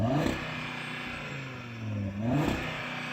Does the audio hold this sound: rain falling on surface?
no